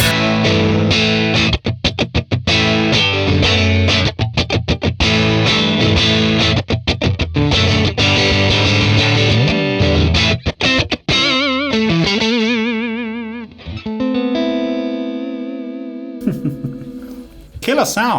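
Electric guitar played through a 1966 Fender Blackface Bassman amp capture with vintage-style pickups, giving a loud, driven breakup tone: dense strummed chords and riffs, then a few ringing sustained notes fading out, with no talking.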